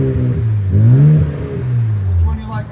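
A 2025 RAM 1500 with the 3.0L Hurricane inline-six and a Flowmaster Super 44 muffler revs up close, its loud deep exhaust tone climbing and then settling back, with people talking nearby.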